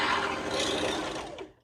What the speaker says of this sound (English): And now I'm sewing those